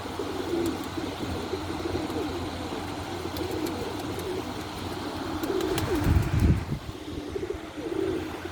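A pigeon perched nearby coos in a few soft, low bursts over steady outdoor background noise, with one louder, fuller stretch around the middle.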